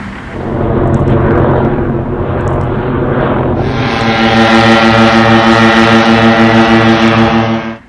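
An airplane flying over from an airport a couple of miles away, a loud sustained droning roar with steady engine tones that grows fuller partway through and holds to the end, with no talking.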